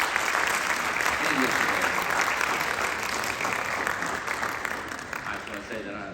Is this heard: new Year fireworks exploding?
no